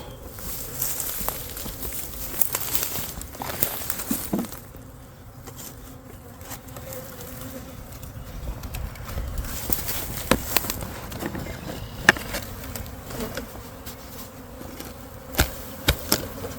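Honey bees buzz around a hive being set up, a close, persistent insect drone with wings passing near the ear, punctuated by occasional knocks and taps from handling the hive boxes.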